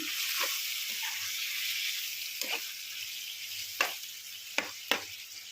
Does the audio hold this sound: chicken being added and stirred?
yes